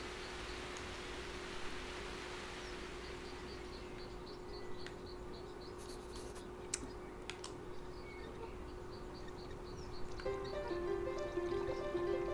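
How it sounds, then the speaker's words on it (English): Rainstorm in the video game A Winding Path: a steady wash of rain-like hiss with scattered small clicks and patters, a low constant hum beneath, and a brief musical chime pattern entering near the end. "I'm just going to cause rainstorms everywhere"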